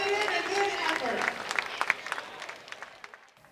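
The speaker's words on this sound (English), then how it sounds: "let's give Klauber a big round of applause" A roller derby audience claps and cheers for a few seconds. The burst is dense at first, then breaks into scattered claps that fade out.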